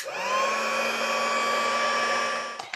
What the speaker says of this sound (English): I'm going to dry it with my heat tool